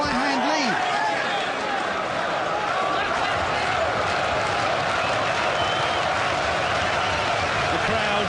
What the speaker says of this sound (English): Stamping and chanting from the fans, many of whom have made their way up from Wales